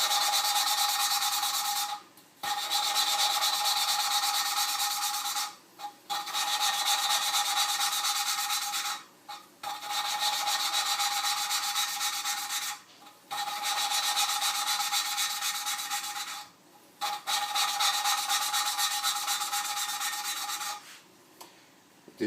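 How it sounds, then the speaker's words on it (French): Engine valve is hand-lapped onto its seat with coarse grinding compound, a gritty rasping rub sustained for several seconds at a time, broken by brief pauses as the valve is turned, close and without talk. "Je remets du grain fort en dessous de la soupape, sur le siège."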